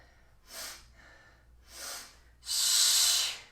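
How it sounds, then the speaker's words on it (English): Three sharp nasal sniffing inhales during a Pilates mat breathing exercise, two short sniffs followed by a longer, louder sustained one, close and clear with no talk. "Let's inhale, sniff."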